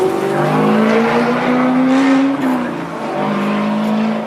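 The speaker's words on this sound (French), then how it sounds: "Jusqu'à présent, elle était connue pour son moteur 6 cylindres au son rauque." Genesis X Gran Berlinetta with its hybrid setup and V6 engine driving on a race circuit, a loud, close engine note rising in pitch, dipping briefly, then climbing again, with a raspy edge and possible tire squeal.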